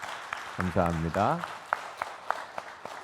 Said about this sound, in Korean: 감사와 격려의 박수를 또 하나님께 우리 영광의 박수를 올려드리겠습니다